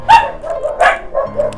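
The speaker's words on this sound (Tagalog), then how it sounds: "nagsiingay ng mga aso" A dog barks several times in quick succession, loud and close, with short yips between the louder barks.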